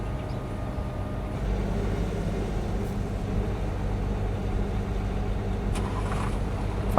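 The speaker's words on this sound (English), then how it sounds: "Fire up the dump truck here, or the grain truck." A dump truck, also called a grain truck, idles in Farming Simulator 22 with a steady low engine rumble that stays even and fairly loud throughout. No one talks.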